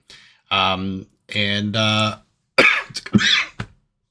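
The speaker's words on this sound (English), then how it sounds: "I'm still coughing a lot" Several harsh, close coughs in quick bursts from a man during a Minecraft livestream, followed by a few shorter throaty coughs and a clearing of the throat.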